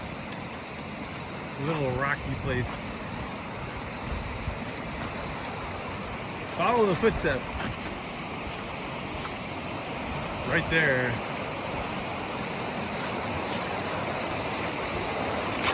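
Steady broadband rush of a river stream at a rocky trail water crossing on the Timberline Trail, flowing continuously throughout while hikers talk over it.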